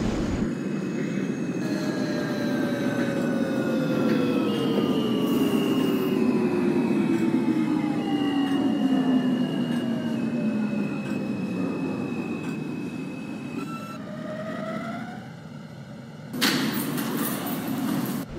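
NYCT R160A Alstom F subway train in a simulator, running steadily with motor tones gliding downward as it slows, wheels rumbling and squealing faintly, then a burst of brake or air release near the end, with no talking.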